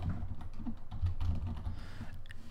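Someone types a string of code on a computer keyboard, producing a rapid, continuous patter of close keystrokes at a moderate level with no talking.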